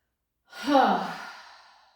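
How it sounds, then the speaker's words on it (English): A single long, audible exhale through the mouth, breathy and close, swelling quickly and then fading slowly, with silence before it. "I want to hear the breath coming out"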